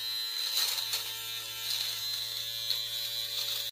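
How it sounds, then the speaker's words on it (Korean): An electric razor trims a beard with a steady, unbroken buzz that runs for several seconds at close range, faint but clear, with no speech. "면도기로 직접 그 면도가 깔끔하게 제거되지 못한 부분을 잘라주시는 게 좋고"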